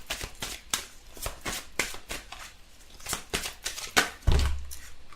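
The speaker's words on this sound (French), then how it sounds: "j'ai envie de prendre 3 petites cartes du Petit Lenormand pour compléter un peu ce tirage" Petit Lenormand cards are shuffled and drawn for a daily reading, giving a quick run of crisp, papery riffles and slaps at close range, followed by a low thud as a card is set down.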